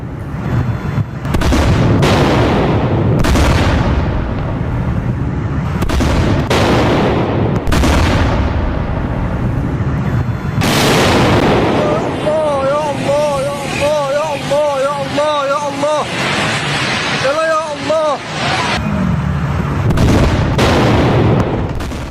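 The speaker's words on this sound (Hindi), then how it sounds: "ईरान में एक के बाद एक धमाके होने लगे" A series of heavy booms and blasts from strikes in Iran follow one another, loud and rumbling, with a wailing siren-like tone rising in the middle stretch.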